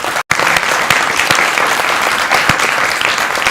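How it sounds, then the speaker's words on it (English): Loud, sustained applause from a festival audience after a panel discussion on information warfare, dense clapping filling the whole stretch with one brief dropout near the start. "I would like to give you a round of applause."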